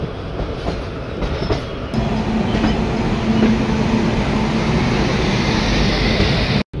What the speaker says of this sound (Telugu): ఈ మొత్తం లోకో షెడ్ వ్యాప్ 7 లోకోమోటివ్ ఇది.